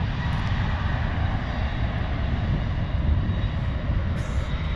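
Airbus A380 taking off from an 8,650-foot runway at SFO airport, a steady, loud, continuous jet engine roar that holds a dense rumble throughout with no voices.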